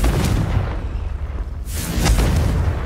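A Confringo spell explosion in Hogwarts Legacy, heavy booming blasts with a deep rumble that dips briefly and then swells into a second loud burst.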